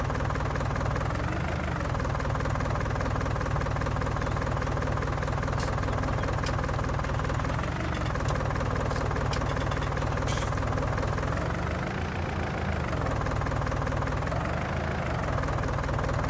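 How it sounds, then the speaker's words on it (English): A farm tractor engine runs steadily in Farming Simulator 19, a loud, continuous low diesel drone with rhythmic knocking and slight swells in revs, accompanied by a few faint clicks, no voices. "We get into this tractor here."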